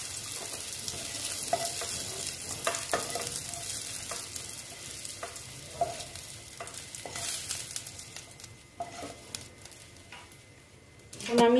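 Bitter gourd pieces fry in oil in a pan, a steady moderate sizzle with intermittent stirring clicks and scrapes, close by and without any talking.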